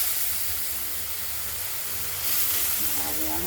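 Mustard seeds and black cumin are tempered in hot oil for a shredded banana-stem and potato curry, giving a steady, close hiss and sizzle throughout.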